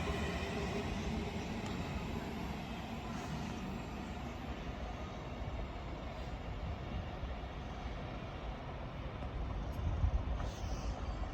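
A London Northwestern Railway Class 350 electric multiple unit at Watford Junction on the West Coast Main Line gives a steady, moderately distant rumble of wheels and traction as it moves through the station, with no talking.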